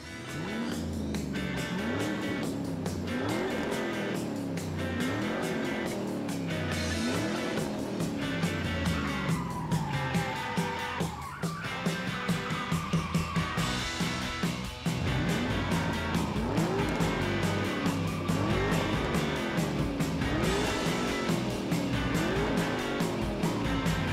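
Racing sports cars set off on a track with a jump ramp, engines whining and rising and falling in repeated pitch sweeps. Tire squeals mix in, and the sound stays loud and continuous throughout.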